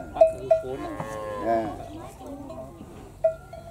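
Water buffalo at a wildlife sanctuary in Thailand lowing in a few deep, close moos, one drawn out, with short knocking sounds nearby and people talking around them.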